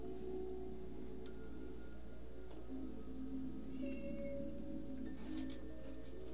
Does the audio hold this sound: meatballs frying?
no